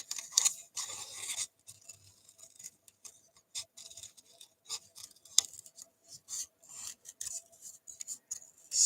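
Scissors cut paper sentiments for a handmade card, making a steady run of close, crisp snips and rasping slices with small pauses and no talking.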